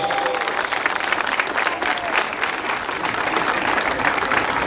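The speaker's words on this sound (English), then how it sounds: "Let's give them a big round of applause." Crowd applauding at a community National Night Out gathering in Hollenbeck, Boyle Heights, a steady dense wash of clapping that carries through the whole stretch with a few faint cheers mixed in.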